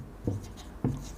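Pen or pencil writing on paper while a maths proof is worked out, heard as two short, close scratching strokes separated by a pause, with no talking.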